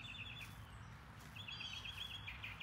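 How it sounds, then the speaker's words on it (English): Birds chirping across a large wooded yard with azaleas, short high twittering bursts at a moderate distance over a quiet outdoor background, no talk. "Listen to the birds. There are so many"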